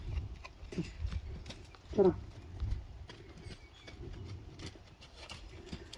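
A horse trotting during a training demonstration, soft hoof clip-clops and thuds at a moderate distance, faint against the quiet background, with a brief snort or vocal sound partway through.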